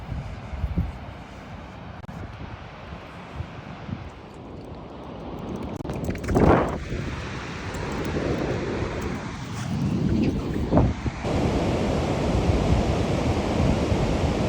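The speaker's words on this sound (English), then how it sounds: "It was sunny for 5 seconds, and now it is pouring" Heavy rain pours on the outside of a van, a dense, steady roaring wash with a few louder thuds and gusts, heard from inside and continuous throughout.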